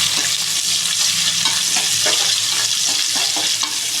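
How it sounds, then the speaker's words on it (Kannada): Onions fry in hot oil for chicken biryani and are stirred throughout, making a loud, continuous sizzle with scraping strokes of the stirring spoon close by and no voices. "ನೋಡಿ ಈರುಳ್ಳಿ ಚೆನ್ನಾಗಿ ಫ್ರೈ ಹಾಕ್ಬೇಕು."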